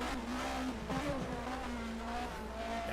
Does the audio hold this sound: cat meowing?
no